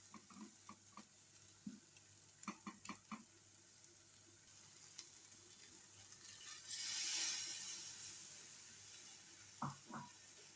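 Bacon and sausages sizzling in a frying pan while a utensil stirs them, giving scattered scraping clacks over a faint steady hiss and a brief louder swell of frying midway.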